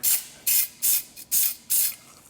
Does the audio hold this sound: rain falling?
no